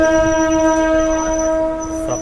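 A train stands at Yalanka Junction railway station on the Anantapur to KSR Bengaluru route, giving a steady, loud tonal hum with a sustained horn-like drone and a faint rumble throughout, with no talk.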